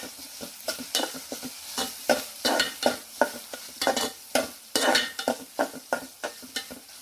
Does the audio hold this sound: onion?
yes